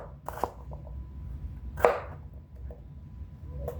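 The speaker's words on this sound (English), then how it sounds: "I'm just gonna chop them up into pieces for the salad." Seeded cucumbers being chopped into pieces on a cutting board for a Mediterranean cucumber-tomato salad, a few sparse knife strikes spread across the moment, close and moderately loud over a low room hum.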